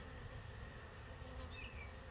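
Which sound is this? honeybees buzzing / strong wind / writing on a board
honeybees buzzing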